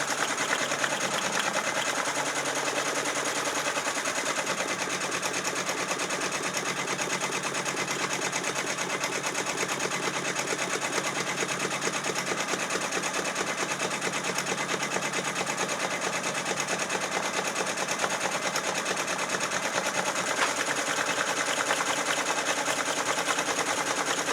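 A Brother embroidery machine stitches a hat on a hat frame at about 600 to 700 stitches per minute. Its fast, even mechanical chatter holds steady and loud from start to finish, with no talking.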